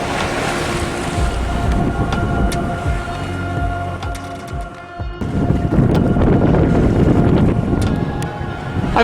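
Strong wind buffets a heavily reefed sailboat in Egmont Bay, gusting 8 to 30 knots, with steady loud roar and microphone rumble, water rushing and slapping against the hull, and a brief lull midway before the gusts surge back.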